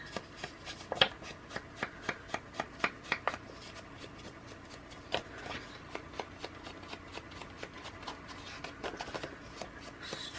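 Scissors snip the corner off a paper scrap for a handmade Valentine sweetheart journal, a quick run of crisp, close cuts and rustles spaced across a quiet workspace.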